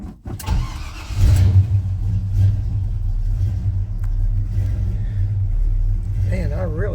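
A 1984 Chevy C10 pickup that has sat unused cranks and catches, then settles into a steady, loud, low idle rumble close by.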